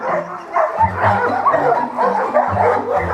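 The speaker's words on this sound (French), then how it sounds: "je vais vous présenter Ixo, qui est un chien craintif de l'homme, donc ça veut dire qu'il a peur de l'homme et des inconnus." A fearful dog, wary of people and strangers, barks and yips repeatedly in quick bursts, close and loud, with whimpering notes mixed in between the barks.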